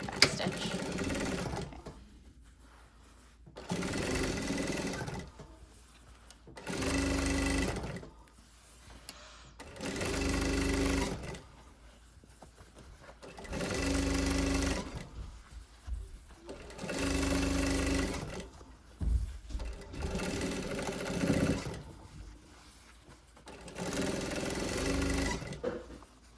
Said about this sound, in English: now I'm gonna sew the top hem on the bag.